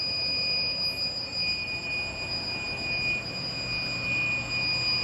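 An inverter's steady high-pitched low-voltage alarm tone sounds continuously over a low, constant fan hum, with no voices.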